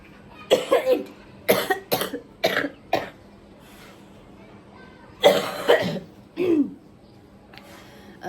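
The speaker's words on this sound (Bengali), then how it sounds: "এত পরিমাণে কাশি কাশি কোনোভাবেই কমতেছে না" A person with a sore throat coughs harshly and repeatedly at close range, a quick run of coughs, a pause, then another short burst.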